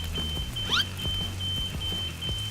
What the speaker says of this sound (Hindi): Fire alarm.